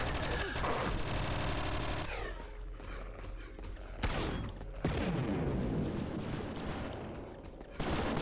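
Rapid bursts of turret gunfire in the PC game Project Eden, loud and dense with overlapping shots and booms that surge and pause across the stretch, with no talk over them.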